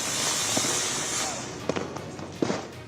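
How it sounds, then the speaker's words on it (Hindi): Firecrackers and fireworks bursting around Delhi at Diwali: a few sharp distant cracks and pops spaced over a few seconds, over a continuous hiss of background noise. "यहाँ पटाखे भी खूब जलते हैं और आतिशबाजी भी खूब होती है"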